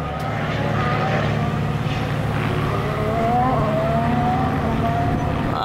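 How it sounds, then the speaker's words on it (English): A steady roar of Formula 1 cars on practice runs at the Miami Grand Prix in the distance, their whining pitch rising and falling as they run laps, with a low rumble underneath. "You can already hear the cars in the background doing their preliminary or test routes"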